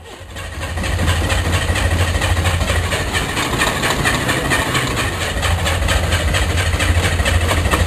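A Spyder car engine with a stripped spark plug thread turns over and catches, then runs loud and steady close by, a rough continuous rumble throughout.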